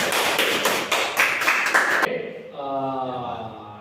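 Brief classroom applause for a student, a few seconds of close, loud clapping that breaks off abruptly, followed by a short bit of speech.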